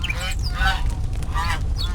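A duck in the video game Pikabuu: Unhuman gives several nasal, honking calls, repeated in short bursts over a steady low background rumble.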